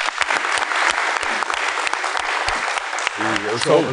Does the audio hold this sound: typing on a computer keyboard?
no